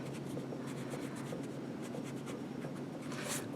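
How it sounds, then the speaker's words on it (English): A pencil sketches lightly on paper in short, soft scratchy strokes, close up and continuous with no voices. "you want to draw lightly so that you can erase the lines and they're not too dark"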